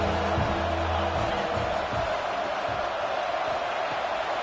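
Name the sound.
stadium crowd cheering on third down, college football video game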